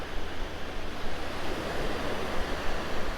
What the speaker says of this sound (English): I mean just right behind these breaking waves right here.